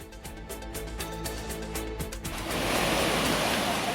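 Floodwater from a burst check dam on the Bavali river near Kottiyoor temple roars steadily during heavy rain, a dense broadband rush that swells louder over the last second and a half.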